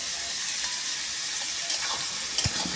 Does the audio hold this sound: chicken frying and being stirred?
yes